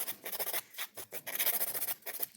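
Nail file rasped back and forth under a fingernail, a rapid series of close, soft scratchy strokes in an uneven rhythm, with no talking.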